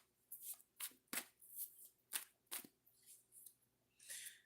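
Oracle cards being shuffled by hand, several quiet riffling bursts and soft slaps in an irregular rhythm, close but faint, with no voices.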